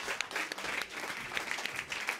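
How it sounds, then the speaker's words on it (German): Fairly quiet, scattered applause rises from a studio audience welcoming a comedian to the stage on an Austrian television comedy show, the claps staying even and unbroken with no voices heard. "Begrüßen Sie mit einem Applaus"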